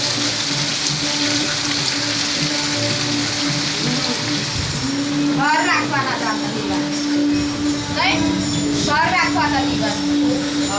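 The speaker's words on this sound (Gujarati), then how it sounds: "વરસાદ, ભરપૂર વરસાદ છે." Heavy monsoon rain pours steadily, a dense wash of hiss and patter close by, while people talk underneath it in the middle and toward the end.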